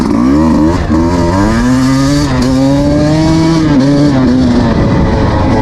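A 2026 Beta 200 RR X-Pro two-stroke dirt bike engine revs loud and close throughout the ride, its pitch rising and falling steadily as the throttle opens and eases, with no talk over it.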